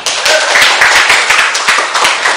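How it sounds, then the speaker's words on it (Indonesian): A school class of students claps hands enthusiastically, loud and close, with individual sharp claps standing out in a brisk, uneven rhythm across a couple of seconds. "Yuk, tepuk tangan, semangat."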